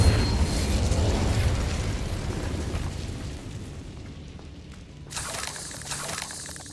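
A fire spell is cast in the video game Hogwarts Legacy: a loud, roaring burst of flame that dies into a softer crackling hiss, followed by a brief second flare near the end.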